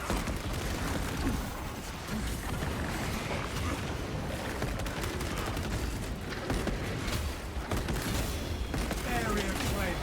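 A heavy bolt rifle in Space Marine 2 fires continuously in a loud, dense barrage, blending with explosions and battle noise throughout.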